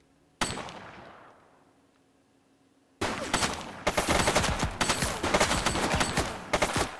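Gunfire from a shooting suspect in the police game The Precinct: a single sharp shot with a long fading tail, then after a pause a loud, rapid burst of repeated shots that keeps going close by.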